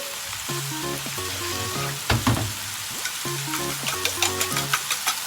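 Enoki mushroom omelette made with three beaten eggs cooks over low heat in a pan, giving a steady close sizzle with occasional light scraping and clinks, and background music plays throughout.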